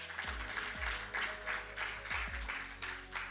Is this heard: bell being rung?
no